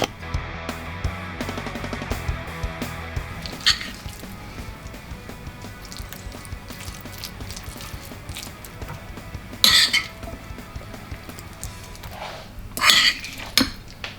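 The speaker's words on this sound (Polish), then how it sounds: "Dodajemy serek grani, twarożek grani i wszystko dokładnie mieszamy." A spoon clinks and scrapes in a bowl while cottage cheese and chives are stirred together, with soft squishing between several sharper metallic knocks against the bowl.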